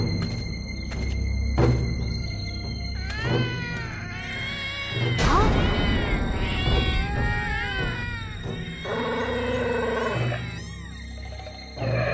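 Cartoon sound of several wild cats meowing and yowling, overlapping and close, with drawn-out wavering cries and a harsh, noisy outburst partway through.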